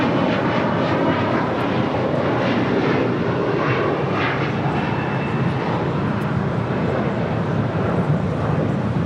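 An Air Canada airliner taxiing at LAX, bound for Tokyo Haneda, gives a steady broad jet engine roar that holds at a constant level throughout, fairly close, with no talk.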